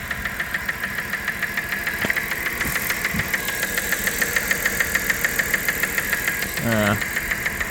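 A 1997 Dodge Caravan LE engine runs with a rhythmic top-end ticking and knocking over a steady idle, with someone speaking briefly near the end.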